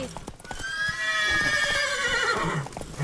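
Geralt's horse Roach in The Witcher 3 video game gives a loud, drawn-out whinny that rises and falls, with hoof clip-clops around it and faint game sound beneath.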